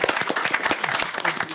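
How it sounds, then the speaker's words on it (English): Audience applause at a city council meeting welcoming a newly appointed council member, a steady burst of clapping from a modest crowd lasting the full moment with no talk over it. "Let's give him a round of applause."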